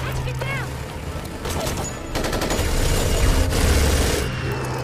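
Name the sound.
gunfire in Resident Evil Apocalypse film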